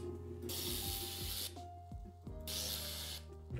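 Spray bottle misting windows by a pool: two long hissing spray bursts, each lasting about a second, close and fairly loud, with a low steady hum running throughout.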